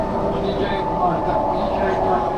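Tram number 9 rolling through Gdansk toward its last stop near the city beach, a steady, loud rumble of wheels and motor continuing without a break. A voice talks over it.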